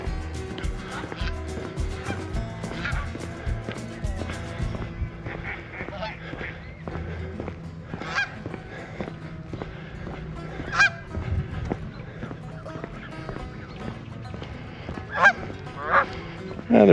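Geese and ducks at a park pond honk repeatedly, several sharp calls standing out near and loud over a busy background of quieter honks and quacks, with some talking mixed in.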